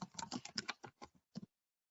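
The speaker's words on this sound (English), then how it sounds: "even if I try to type in the right password" Quick keystrokes as a password is typed on a computer keyboard, a close, fast burst of about a dozen clicks that slows into a few separate taps and then stops.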